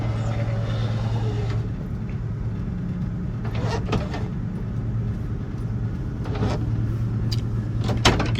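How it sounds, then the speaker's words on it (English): A frameless power window closing on a 1968 Pontiac Firebird Sprint, a steady low electric motor hum running throughout with a few faint clicks and knocks. "Again, being a frameless window, needs a little more torque to get closed up."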